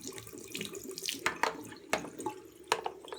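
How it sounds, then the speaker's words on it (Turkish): Tap water runs while wetting curly hair, a close, splashing flow broken by sharper spatters and drips as the stream hits hair and the basin. "Suyla ıslatıyorum."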